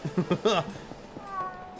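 A cat in a video game gives a few brief meows near the start, clear but modest in level, followed by softer sounds as a voice speaks.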